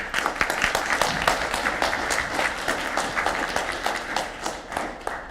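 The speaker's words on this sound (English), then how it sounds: "And with a great applause, let's welcome the first speaker, Panu Saarenoja" Sustained applause from a lecture audience, many hands clapping steadily and loudly throughout with no talking.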